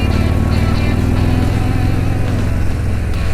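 Harley-Davidson Milwaukee 8 engine lugging in a low gear during a ride, a loud, steady, deep throbbing rumble with constant wind noise, close and uninterrupted, no talk.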